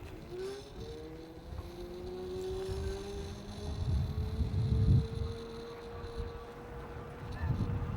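Electric bike motor driving the bike uphill on throttle alone with no pedaling, a steady rising whine over low rumble and wind noise, moderately loud and continuous throughout.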